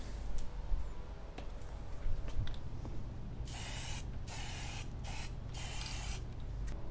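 Close, continuous aerosol spray paint hiss coating a Halloween costume, with a steady low background rumble and brief pauses between sprays near the end.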